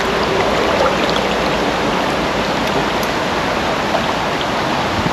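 Fast-flowing water in a narrow, deep, healthy chalk stream rushes steadily and loudly, a dense continuous wash close by with no voices.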